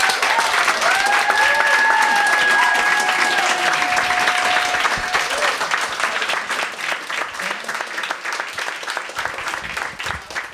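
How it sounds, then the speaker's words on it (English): A big round of applause from the audience at a polyamory talk event, loud sustained clapping from a full room with a few whoops early on, gradually thinning toward the end. "Please give a big round of applause."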